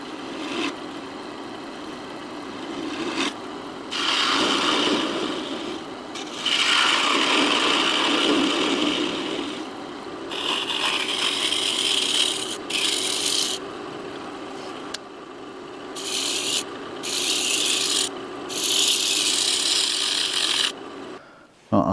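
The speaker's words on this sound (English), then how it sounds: "I'm going to give this a sand up and I'll be back" Hand sanding of a small wooden box built from scrap wood, a steady close rasping scrub in long strokes with brief pauses between passes, no talk.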